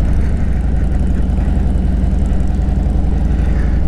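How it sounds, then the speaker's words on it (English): An airplane takes off at a small airport near Cedar Key, Florida. Its engine roar is steady and loud and sits low, with no voices over it. "Oh, an airplane taking off."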